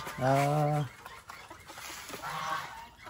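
Hens give two loud, drawn-out clucking calls a couple of seconds apart, close by, with quieter yard noise in between.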